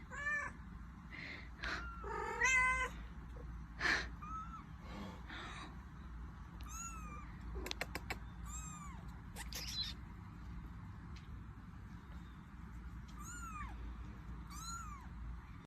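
A cat, a mother named Crackhead Kitty with her baby, gives a scattered series of short, high meows and chirps, some overlapping, fairly quiet against a soft room hum, with no talking.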